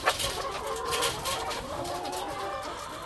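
Chickens clucking at a poultry farm, a steady busy flock sound of overlapping clucks and bird calls that runs continuously at moderate loudness, with no talk.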